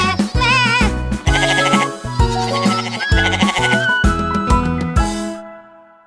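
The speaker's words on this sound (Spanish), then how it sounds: "La cabra lo miró y muy fuerte le gritó." A goat bleats loudly in a Spanish-language children's story, the cries set over bright, rhythmic musical accompaniment that plays throughout and fades out at the end.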